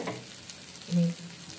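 Pumpkin seed chutney mixture with Kashmiri chilli powder being stirred in a pan, a short scraping swish near the middle over a faint sizzle, with no talking.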